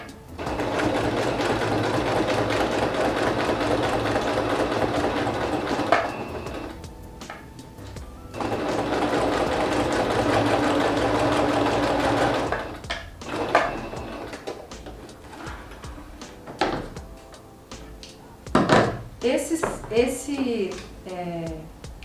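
A sewing machine stitching an album runs in two loud sustained bursts of rapid mechanical whirring, then falls quiet while a person speaks over scattered handling clatter and small clicks.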